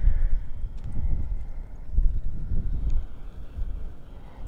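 A ridden J Hart bred horse's hooves clip-clop in a steady, uneven rhythm on the ground during a ranch branding. The hooves are close and fairly loud, with wind buffeting the microphone throughout.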